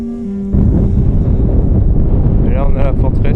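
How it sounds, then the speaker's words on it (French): Loud, roaring desert wind pushing sand buffets the microphone continuously in Uzbekistan, with a faint whistling tone at the start before the rush of wind takes over. "Il n'y a pas de bruit, à part celui du sable poussé par le vent."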